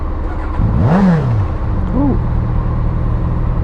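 Suzuki SV650 motorcycle engine revving, a single rising and falling rev near the start followed by a shorter blip, over a steady idle rumble, with a brief exclamation from the rider.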